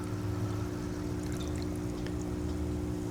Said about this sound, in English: And pour it in here.